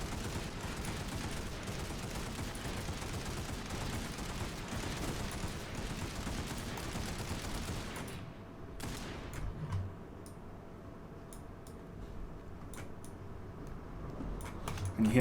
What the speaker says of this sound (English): So let's just try 5 to 10 shot bursts now